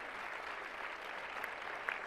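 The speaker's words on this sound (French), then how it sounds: "que je vous demande d'applaudir." Audience applause for a woman being honoured at a women's forum on science and technology, a steady dense clapping from a hall that holds even throughout.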